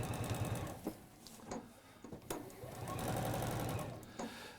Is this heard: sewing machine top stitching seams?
yes